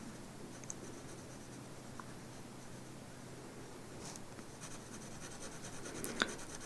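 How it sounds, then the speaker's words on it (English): A pen scratches across paper as it draws and shades in an orb, a faint continuous close-up scribbling with small taps and a slightly louder stroke near the end. "Draw my orb and then start to fill."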